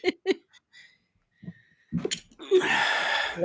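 A few short voice sounds, then a sharp, loud sneeze bursts out up close, trailing into a breathy noise.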